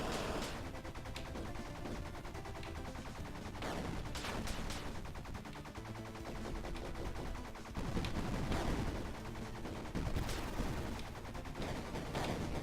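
Rapid gunfire from a shoot-'em-up video game, with dense bursts of shots and explosions layered over continuous game music and effects, fairly loud and steady throughout, rising in intensity near the end.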